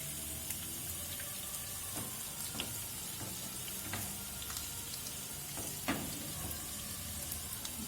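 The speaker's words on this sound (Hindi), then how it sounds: "लहसुन जो है ये ब्राउन होने लग गया, हल्का हल्का जो पिंकिश सा ब्राउन हो गया।" Garlic fries in hot oil in a pan for a daal tadka, a soft continuous sizzle with scattered light crackles and pops, quiet and close, with no voices.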